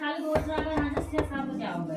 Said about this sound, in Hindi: किसी ने उसके दरवाजे पर दस्तक दी